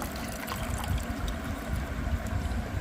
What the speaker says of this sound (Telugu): మళ్ళీ వాటర్ పోసుకో